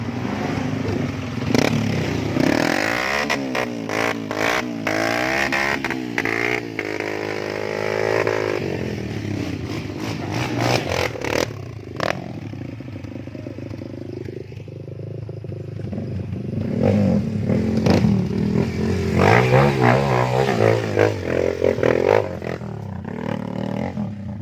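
Motorcycle engine revving hard at a motorcycle race in Aceh, a loud buzzing two-stroke-like roar rising and falling in repeated bursts, close and sustained, with brief clattering and scraping noises.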